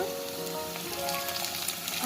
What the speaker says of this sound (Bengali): তো পেঁয়াজ কুচিটা আমার ভাজা হয়ে গিয়েছে এবার আমি দিয়ে দিচ্ছি আদা বাটা